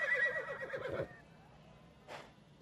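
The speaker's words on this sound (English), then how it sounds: "Here's his horse." A mare gives a loud, close whinny that rises and trembles for about a second, followed by quiet and a brief fainter snort or call.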